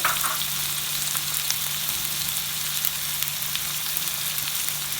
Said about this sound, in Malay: So sekarang kita masukkan tomato yang kita potong.